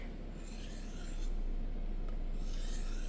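A kitchen knife drawn in light strokes across a ceramic surface to remove the burr after sharpening on a 3000 grit stone, giving a soft, steady close-up rasp with no talk.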